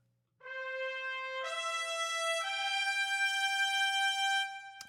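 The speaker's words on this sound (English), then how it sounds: "3 trumpets, which sounds something like this." Three trumpets from a sampled brass library play a sustained note. A bright, loud chord holds for about four seconds, swelling as higher layers enter, with no voices.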